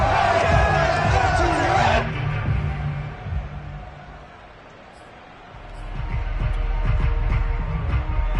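At a 49ers vs Falcons NFL game, the home stadium crowd roars after a big play: a loud burst of cheering that eases into a rumbling murmur, then swells again.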